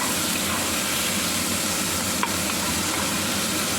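Food fries in a pan for pansit batil patong until golden brown, giving a loud, continuous sizzle close by with faint stirring scrapes and no talk.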